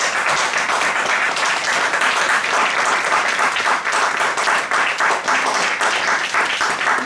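A church congregation applauds with steady, dense clapping that stays loud and even throughout, with no break.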